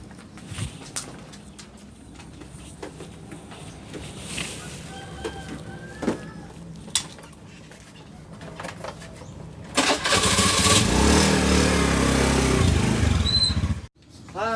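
A motorcycle engine starts up and revs loudly after a stretch of quiet background sounds and birds, then cuts off abruptly.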